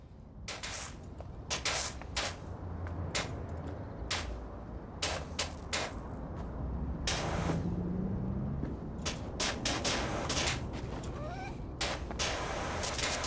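Pressure washer spraying in Powerwash Simulator, with close, loud bursts of hissing water cut into many short blasts of uneven length over a busy game background.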